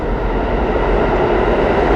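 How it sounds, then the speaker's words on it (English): A New York City subway train rushes past close by, a loud, steady rumbling roar with a broad wash of rail noise and no voices over it. "How many times have I made this train in my lifetime?"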